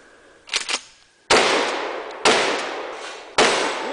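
A tactical shotgun booms three times, sharp loud blasts spaced about a second apart, each ringing out and decaying, preceded by a couple of softer clacks from handling the gun.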